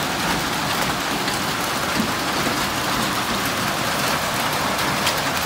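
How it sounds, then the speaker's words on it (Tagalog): Heavy rain with hail falls in Taif, Saudi Arabia, a loud, unbroken roaring hiss with faint scattered ticks throughout, close and steady. "Pero ngayon, sobrang na, malakas ang ulan. Tapos may kasama pang yelo."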